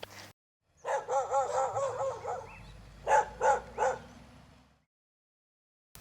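Several dogs bark in quick bursts up close, a run of sharp yaps and whines followed by three louder barks, with a low rumble underneath and silence at both ends.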